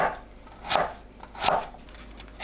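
A knife julienning radish on a cutting board chops in three evenly spaced strikes, crisp and close, with a faint background hiss between cuts.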